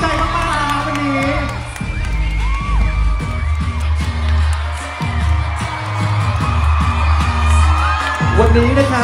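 Crowd at a Lisa fanmeet in Thailand claps and cheers loudly and continuously, with whoops and yells rising throughout, while a voice talks over the noise.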